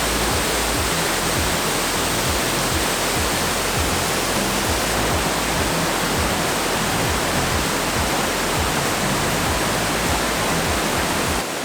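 Achankallu waterfall in Kasaragod, a gentle stream cascading over rock, gives a dense, steady rush of falling water that stays loud and unchanging throughout, with no voices.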